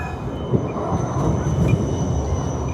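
A tram rolling past on an Amsterdam street, loud and close, with a low rumbling wheel roar, faint metallic squeal and clanking, sustained throughout without talk.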